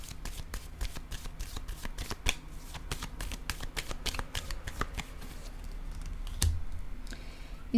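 Tarot cards shuffled and dealt one after another, a steady run of crisp close riffling flicks and soft slaps, ending in a heavier thump as a card is set down.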